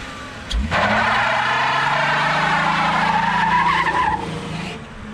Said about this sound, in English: having to do a reverse burnout